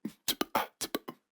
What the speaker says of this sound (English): Erosion's gonna add a little bit of noise and a bit crushing effect to my vocals.